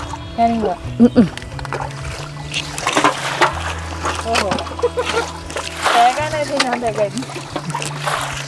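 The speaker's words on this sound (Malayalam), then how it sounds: "തോട്ട് വെള്ളത്തിൽ കഴുക്കും" Vegetables such as taro, spinach and eggplant are washed in stream water, with irregular splashes and sloshing close by while people talk throughout.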